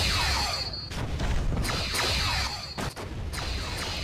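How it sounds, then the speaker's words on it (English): Phaser fire from starships in a Star Trek ship battle game, featuring the USS Voyager J, Janeway class: loud repeated whooshing energy bursts and booming impacts in quick succession, dense and continuous with no talk. "All right, so that's the phasers."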